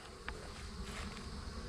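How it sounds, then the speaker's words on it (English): Bees in a colony at a bee yard hum as a dense, steady buzzing drone, with no voices present. "There's more bees in this colony."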